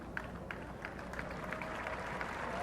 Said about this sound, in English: Applause are always positive